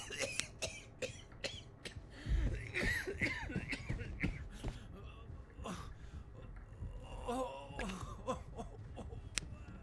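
Several short, harsh coughs from a game character come in bursts under a cluttered Level Zero: Extraction soundscape with a person talking over them.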